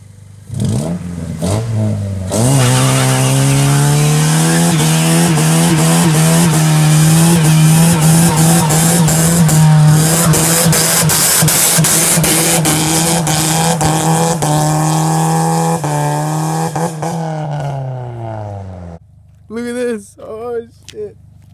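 A car doing a burnout, its engine revving hard with a steady tone while the tires squeal loudly and continuously for most of the run, then cutting off as people exclaim nearby.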